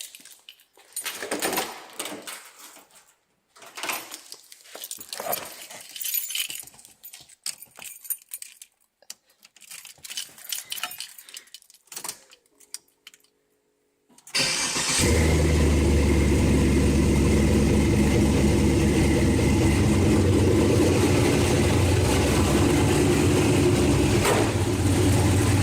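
A budget-build tuner car has keys jangling and small clicks, then its engine starts abruptly and settles into a loud, steady idle that continues to the end.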